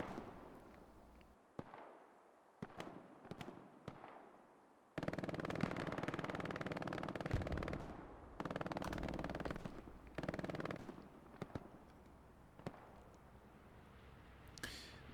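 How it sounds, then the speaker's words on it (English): Explosions and gunfire during a bombing run in the Hell Let Loose game's SME Checkpoint battle, with scattered sharp cracks and rattling bursts followed by sustained rumbling blasts, heard at a distance and fairly faint, with no talk. "Bombing run has been called in. This will be a north to south bombing run going over checkpoint."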